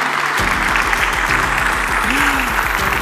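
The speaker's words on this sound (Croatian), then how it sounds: "Pozdravite dame velikim pljeskom." Audience applause for beauty pageant contestants at the Miss Universe Croatia final, a loud, dense burst of clapping over a pulsing music beat, with a brief voice briefly audible.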